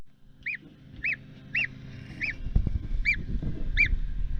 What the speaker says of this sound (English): we'll go for some pilgrim geese.